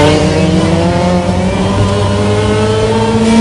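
A loud, continuous engine roar from inside a hard-driven rally car, with steady supercharger whine lines rising and holding throughout, no talking.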